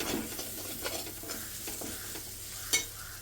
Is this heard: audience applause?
no